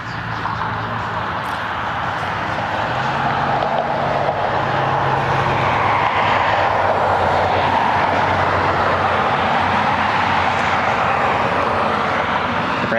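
A tanker aircraft departs Cleveland Hopkins airport, its engines a broad, steady roar heard from a distance that swells slightly and holds for the whole stretch.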